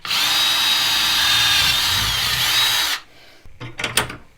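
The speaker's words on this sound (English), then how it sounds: "I highly recommend taking a small bit and doing your initial hole" Power drill boring a pilot hole with a small bit, a steady loud high whine for about three seconds, then stopping and leaving a few quieter clicks and handling noises.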